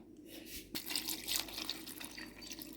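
Meat broth poured over chopped cucumbers for okroshka in a home kitchen, a steady splashing liquid stream that starts abruptly and runs on close by, with no talk.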